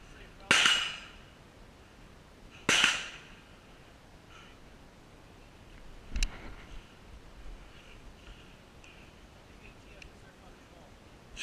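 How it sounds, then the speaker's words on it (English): Short-barreled rifle shots fired from a plywood barricade during rifle training, two loud sharp cracks in quick succession near the start followed later by a fainter report, with ambient range noise between. "So shooting from plywood with the SBR? That thing's got some bark."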